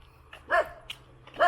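Two separate dog barks in a residential area in the Philippines, moderately close, with a brief sharp yip between them and a faint low hum underneath.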